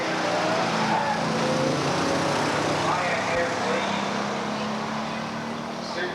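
Muscle cars at Beech Bend drag strip launch off the line on a green light, their engines roaring in a loud, sustained wash with some tire squeal as crowd noise and an announcer's voice run underneath.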